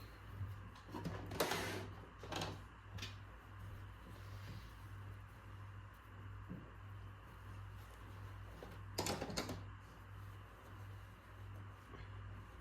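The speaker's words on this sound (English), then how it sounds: "I'm going to put the leg hole under my serger" Serger stitching the leg hole of pole shorts, a quiet steady mechanical hum with a few brief louder whirring bursts and clicks, fairly faint and close.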